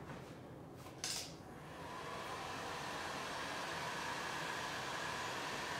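A heat tool blows steadily while warming a freshly glued piece during a Mad Hatter paint project, a constant broadband whoosh that swells after a brief click and holds alone at moderate loudness.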